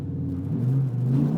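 A Dodge Ram SRT10's V10 engine revs with a low, rising rumble that swells and holds, heard alone at moderate level.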